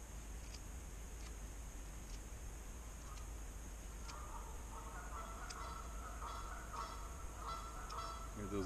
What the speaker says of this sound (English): Hear those geese in the background.